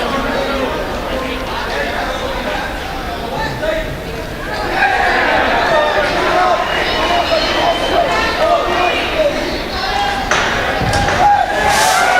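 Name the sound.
crowd cheering at ninja competition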